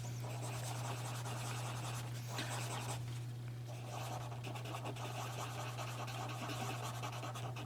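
Dry Crayola wax pastel blended on paper with a blending brush, giving a continuous close scratchy brushing sound with short strokes and a brief pause midway, over a steady low electrical hum.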